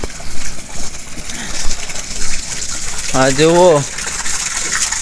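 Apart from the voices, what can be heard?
water flowing from canal into field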